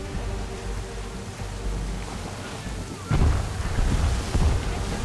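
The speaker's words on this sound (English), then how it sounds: "Heavy gust, Captain." A heavy wind gust sweeps over the open sea in the video game Assassin's Creed 3, a broad rushing roar that swells into a louder burst of wind and water.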